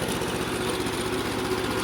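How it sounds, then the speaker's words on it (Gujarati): Swaraj 724 mini tractor engine running steadily with an Arise rotavator in a cotton field, a loud continuous low diesel drone with rhythmic throb, close by and without talk. "આપણા મુખીભાઈ નાનું ટ્રેક્ટર લઈને મિની સ્વરાજ લઈને આવી ગયા છે રોટાવેટર મારવા"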